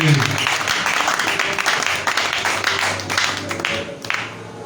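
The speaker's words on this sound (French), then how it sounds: "Tu acclames très fort pour la parole de Dieu." A church congregation applauds and cheers loudly and steadily through the whole stretch, with dense clapping layered with voices.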